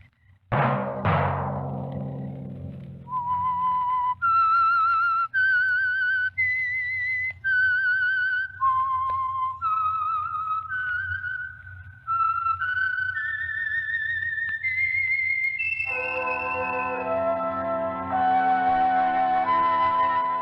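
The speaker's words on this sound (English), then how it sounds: "Let that whistle be your signal for the Signal Oil program, The Whistler" A lone whistler carries the signature theme of the old radio mystery program The Whistler, a clear melodic tune of sustained notes, near and steady, ending as orchestral music swells in underneath.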